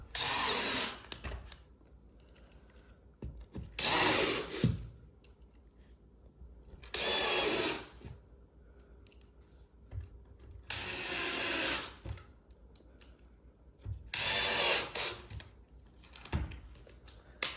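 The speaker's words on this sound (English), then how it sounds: "there's going to be six total screws that are going to go down through this and into the top" A power drill drives six screws down into the top of a wooden farmhouse shoe bench, five or six loud whirring bursts of a few seconds each, separated by quiet pauses with small clicks and handling noises.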